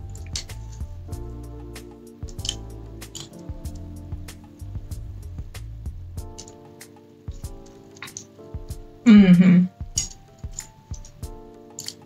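Chicken noodles being stirred and tossed with sambal matah in a bowl, with soft wet squishes and light clinks of utensils against the dish, plus one brief louder scrape near the end.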